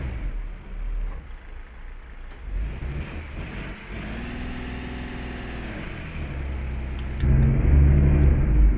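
A Temsa Safir Plus bus engine in a driving game strains to pull away from a bus terminal, a steady mid-pitched drone that rises in pitch as it revs, then swells louder near the end.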